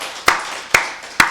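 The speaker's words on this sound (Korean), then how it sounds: "우리 박수를 하나님께 드리겠습니다." A church congregation at a Wednesday worship service gives three sharp, evenly spaced claps about half a second apart, each with a brief ringing decay over a faint room hum.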